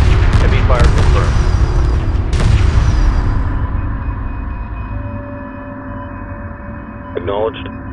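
Heavy anti-fighter weapon fire in the space strategy game Homeworld 2 Remastered: loud, dense booming bursts up front that thin into a rumbling drone, with radio-style voice chatter over it.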